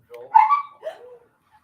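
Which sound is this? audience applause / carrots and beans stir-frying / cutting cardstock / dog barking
dog barking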